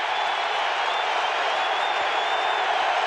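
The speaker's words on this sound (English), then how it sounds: "This crowd's into it." Large football stadium crowd at a 2006 Falcons vs Cowboys game, a steady loud roar of cheering and noise filling the whole stretch with no breaks.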